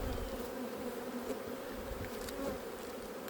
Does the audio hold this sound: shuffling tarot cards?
no